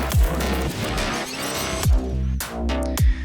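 Dense electronic music section with a saw synth and bass guitar, with loud, steady layered tones broken by several heavy bass hits that fall in pitch.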